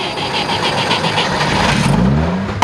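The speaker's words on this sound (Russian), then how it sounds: "заводит свою детскую мечту – ГАЗ-69А" A restored 60-year-old Soviet GAZ-69A car engine cranks with a steady whirring starter, then catches and revs up, loud and close, with no speech.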